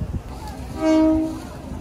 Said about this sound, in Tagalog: Dahil sa tren.